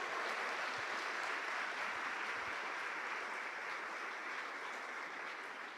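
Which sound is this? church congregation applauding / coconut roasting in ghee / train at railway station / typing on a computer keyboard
church congregation applauding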